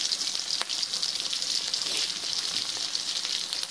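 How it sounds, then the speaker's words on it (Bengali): Ginger, garlic, onion paste and chopped green chili frying in hot oil, a steady close sizzle with a continuous hiss and light crackle that holds evenly throughout, no voices. "গরম তেলের মধ্যে বেটে রাখা আদা রসুন পেঁয়াজ কুচিগুলো দিয়ে তারপর দেবেন 3-4 কাঁচা লঙ্কা কুচি"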